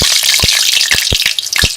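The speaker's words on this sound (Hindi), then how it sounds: "अब मैं इसके अंदर पकौड़ों को फ्राई कर लूँगी।" Carrot pakoras deep-fry in hot oil, giving a loud, close, hissing crackle broken by sharp popping bursts throughout the brief stretch, with no talking.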